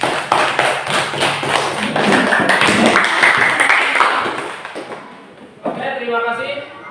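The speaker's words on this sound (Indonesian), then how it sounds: "tepuk tangan untuk kelompok 3" Classroom clapping for a student group at an elementary school lesson, a dense burst of many hands that fades out after about five seconds, with voices over it and a teacher speaking at the end.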